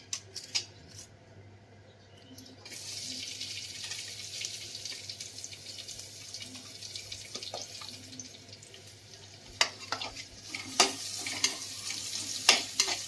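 Onions sizzling in a pan for biryani, with occasional stirring scrapes and clinks, the frying hiss swelling and growing busier toward the end.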